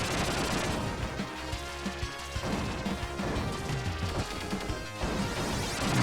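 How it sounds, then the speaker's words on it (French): Dense, loud video game action from the shoot-'em-up Earthion: continuous crashing explosions and blasts layered with buzzing electric, magnetic effects, sustained without pause and with sharper impacts near the end. "on discerne vraiment des bruits d'explosion, des bruits un peu électriques, magnétiques"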